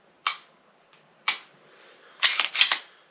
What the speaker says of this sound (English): I'll drop the mag so I don't have to worry about that